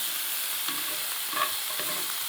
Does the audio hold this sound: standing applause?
no